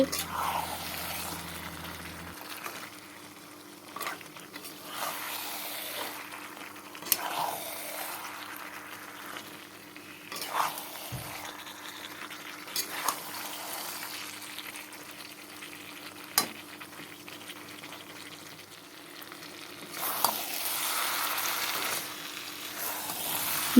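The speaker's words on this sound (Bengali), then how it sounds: "দেখো এখানে চিকেনটা কষানো হয়ে গেল" Chicken being stir-fried into a rich, oily spiced kosha in a pan at home, with a steady close sizzle and frying hiss under scattered spatula scrapes and knocks throughout.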